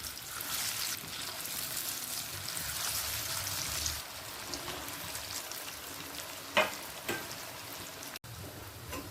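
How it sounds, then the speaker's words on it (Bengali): Lentil paste cake frying in ghee and oil, a fairly quiet constant sizzle with a couple of sharper clinks or spatters near the end. "ডালটা ভেজে নেওয়ার জন্য দিয়ে দিচ্ছি দু চামচ ঘি"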